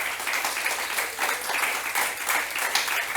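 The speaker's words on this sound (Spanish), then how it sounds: "Dale un aplauso al Señor" Church congregation applauding during a Sunday service, a steady dense wash of many hands clapping throughout at moderate loudness, with no voices standing out.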